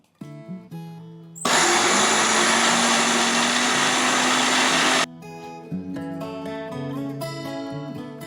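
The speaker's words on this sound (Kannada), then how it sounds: "ಮೊದಲು ಅಕ್ಕಿ ಮೊಸರು ರುಬ್ಕೊಳ್ತಾ ಇದ್ದೀನಿ." A mixer grinder whirs loudly and steadily as it grinds rice and curd into batter, running for about four seconds at a constant pitch, with music before and after it.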